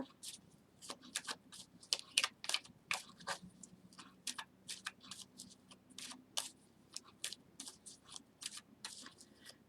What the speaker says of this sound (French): je mélange mes cartes